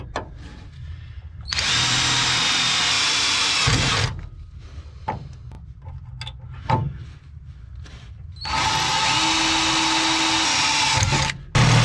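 A power drill bores holes in a welded, work-hardened metal part, two long loud whirring bursts separated by a quieter stretch of clanks and handling noises, close up and without speech.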